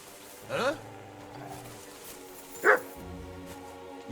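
A dog barks twice in Kingdom Come: Deliverance 2, short separated woofs over a low ambient background, with a voice speaking between them.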